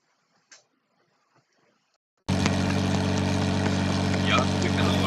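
After a near-silent start with a few faint ticks, a Lamborghini Murcielago's loud engine in Assetto Corsa suddenly cuts in and holds a steady, rumbling idle to the end.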